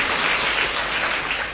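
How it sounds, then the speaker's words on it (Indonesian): A church congregation gives loud, enthusiastic applause during a sermon, a continuous, close, dense clapping that stays even across the short stretch with no speech over it. "Berikan tepuk tangan yang meriah"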